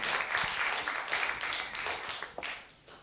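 Audience applause at a 2018 city council candidates forum in Moorpark, a crowd clapping steadily at moderate volume before fading away toward the end.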